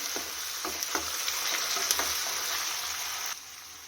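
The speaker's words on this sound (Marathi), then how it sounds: "कांदा एक दोन ते तीन मिनिट छान असं तेलामध्ये परतून घेऊया" Onion fries in hot oil with curry leaves in a pan for a potato curry, giving a steady loud sizzle with a few light stirring clicks and scrapes. No one speaks.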